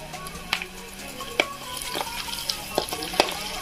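Fenugreek leaves frying in a pan with spices for a village-style fish curry, a steady close sizzle broken by regular scraping stirs and light clicks of the utensil.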